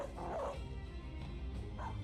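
Dog yelping and whimpering in the medieval mercenary strategy game Battle Brothers, a faint, brief whine over a steady background of game noise.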